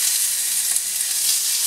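Onion frying in a soup pot gives a steady, close, dense sizzle that stays even and unbroken throughout.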